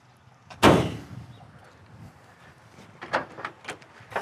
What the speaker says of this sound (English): Doors open and close so nicely.